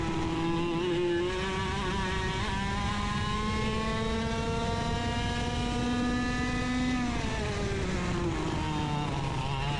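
A racing kart engine runs around a track, its high buzzing whine rising through the gears and dropping sharply near the end before climbing again, loud and close throughout.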